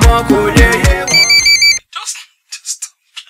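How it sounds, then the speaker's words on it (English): A cartoon telephone rings from another room, its electronic trill heard after lively dialogue, with short chirping ring bursts repeating in the quiet that follows. "Honey, is that not your phone ringing?"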